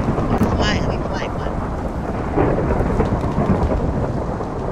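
Heavy rain hisses steadily with low rumbling thunder underneath, a dense, continuous Minecraft storm bed with a few faint tonal blips near the start.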